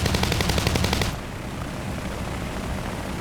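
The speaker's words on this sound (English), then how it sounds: "Let's see if I can fire a couple of rounds," Onboard guns of an SM.91 aircraft in War Thunder fire a loud, rapid one-second burst, which gives way to steady engine and wind roar.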